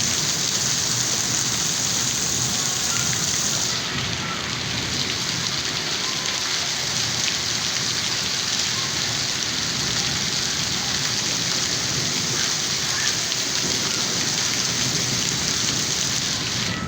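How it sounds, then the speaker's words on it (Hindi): Heavy rain pours steadily over Attock city, a dense, continuous hiss of drops on surfaces with a low rumble underneath, loud and unbroken from start to finish with no voices. "बहुत तेज़ बारिश है।"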